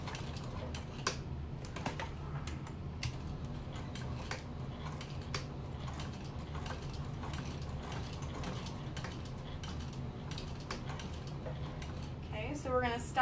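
A sewing machine stitches a tote bag corner with a fast, even mechanical clatter that keeps going for the whole stretch, faint and close, with a brief soft voice near the end.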